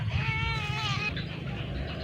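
A single sheep bleats loudly and close by, one drawn-out wavering call standing alone over a low background rumble.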